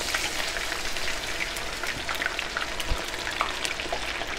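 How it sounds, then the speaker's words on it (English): Beer-battered cod fillets, cut in half lengthwise, frying in hot oil for fish and chips, a steady dense crackle and hiss with scattered pops, close and continuous throughout without any talking. "And it's going to fry up"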